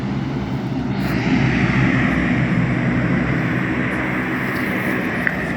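Airplane landing, heard as a loud, steady roar of aircraft engines close by that holds throughout with little change in level.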